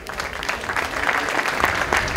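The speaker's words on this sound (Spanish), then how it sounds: "fuerte el aplauso" A crowd at a heifer sale in Cañuelas claps briefly, a moderate dense patter of many hands heard up close for a couple of seconds.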